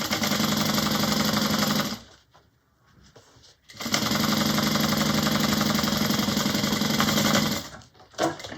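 A sewing machine sewing a zipper pocket seam on a bag runs in two long, loud, steady stretches with a short quiet pause between them, and begins again briefly at the end.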